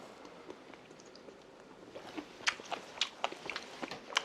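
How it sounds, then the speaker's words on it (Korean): Blanched squid being bitten and chewed, with several crisp, close crunchy bites and chewing sounds clustered in the second half after a quieter start, with no talking. "여기가 질긴 부분이 질길지 한번 먹어볼게요"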